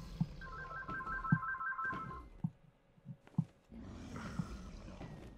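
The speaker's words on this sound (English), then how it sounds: "Yeah, that's my phone." A phone rings close by with a repeating electronic ringtone for about two seconds, mixed with breathing and faint snorts during a Minecraft gaming session.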